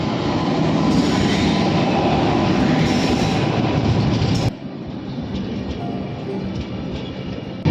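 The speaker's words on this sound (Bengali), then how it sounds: "ফাইনালি আমাদের ট্রেন এসে হাজির" A passenger train pulls into a station, a loud continuous rumble of rolling wagons with wheel clatter and hiss, easing to a slightly quieter roll midway as it slows.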